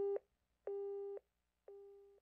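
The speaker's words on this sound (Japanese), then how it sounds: "電話の向こうから虚しい機械音が鳴り響く。" Three evenly spaced tones of a telephone busy signal sound in the retro horror game Hayarigami Revenge, each a clean electronic beep about half a second long, heard alone and clearly.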